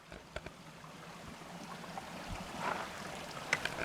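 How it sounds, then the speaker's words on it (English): A small creek on the Pacific Crest Trail trickles steadily over rocks in the open, a soft continuous burble with a few brighter splashes, nearby and alone. "I came across this little creek."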